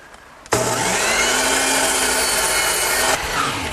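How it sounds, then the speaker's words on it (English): A power miter saw slices through wooden stock for a Shaker two-drawer blanket chest. The blade spins up suddenly, makes one loud, steady cut of about two and a half seconds, then drops back to quiet. "now I'll just bring the pieces over to my power miter box and square up the top end"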